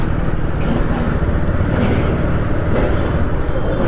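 Heavy, congested road traffic in Mumbai, a steady dense rumble of cars, buses and trucks with occasional air-brake hisses, continuous and fairly loud throughout with no clear talk.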